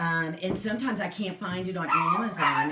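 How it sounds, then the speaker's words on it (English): Small dogs yip and whimper in short, high bursts close by, mixed under someone talking steadily indoors. "Excuse the little dogs."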